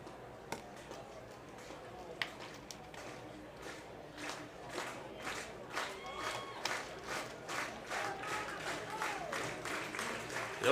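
A home crowd at a summer baseball game in Okotoks urges on a hitter, with scattered claps building into rhythmic clapping and cheering from the stands, heard at a distance and fairly faint.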